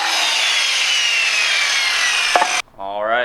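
A saw cuts through a wooden rib for a skate kicker ramp: a steady, loud broadband rasp runs continuously, then stops abruptly with a brief clatter, followed by a short tonal buzz.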